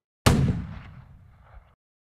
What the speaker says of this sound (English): So I started with this low gun sound.